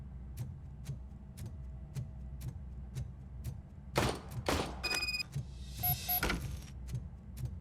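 Gunshots ring out in RoboCop: Rogue City, a cluster of sharp, loud bursts fired in quick succession after several seconds of quiet ticking, followed by a brief electronic tone.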